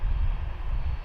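A low, steady jet-engine rumble from a Boeing 767 at Dublin Airport, a dense continuous roar heard from a distance.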